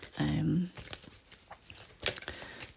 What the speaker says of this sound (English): Just a quick shuffle again for them.